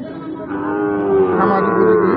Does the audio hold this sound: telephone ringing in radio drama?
no